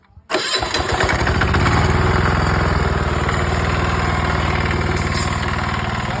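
An old Japanese Maruyama diesel sprayer pump engine with electric start kicks into life abruptly, then settles into a loud, steady, rapid chugging at an unrevved idle, running alone close by without any voices.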